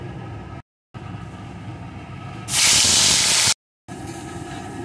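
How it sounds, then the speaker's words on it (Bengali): Ground kharkol leaf paste drops into hot mustard oil, setting off a sudden loud, bright sizzling hiss that lasts about a second before cutting off, set against a quieter background hum. "এখন তেলটা গরম হয়ে গেছে। এখন এর ভিতরে আমি বাটাটাকে দিয়ে দেবো।"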